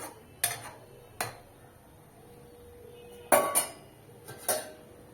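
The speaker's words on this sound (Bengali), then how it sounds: "ঢাকা দিয়ে দিচ্ছি।" A lid is set over a pot of soybean and cauliflower curry simmering on a low flame, with a few sharp metallic clanks and clinks, some in quick pairs, against a quiet background.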